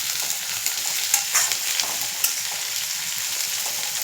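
Curry leaves frying in hot oil in a pan for restaurant-style egg fried rice, a continuous crackling sizzle with a few sharper pops and occasional stirring scrapes, close and alone.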